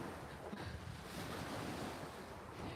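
Choppy sea waves wash against the shore at Puerto Pollensa, Mallorca, as a faint, steady surf rush mixed with wind buffeting the microphone, with no one speaking.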